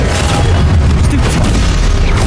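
A Stupefy spell in Hogwarts Legacy fires amid a loud, sustained boom and rumble of combat, with short bright swooshes and impacts layered over heavy low-end noise.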